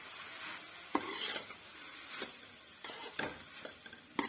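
Boiled spaghetti being stirred and tossed in a pan, with close scraping, clinking strokes at an uneven rhythm over a faint sizzle, and no talking.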